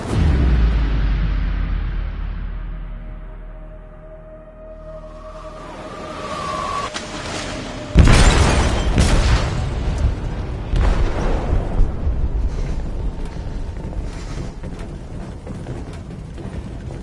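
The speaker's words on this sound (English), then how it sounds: "They detonated an explosive in the hold." An explosion rips through a ship's hold in Detroit: Become Human, starting with a deep rumble that swells and then cracks into a sudden loud blast, followed by a long roaring, crackling aftermath.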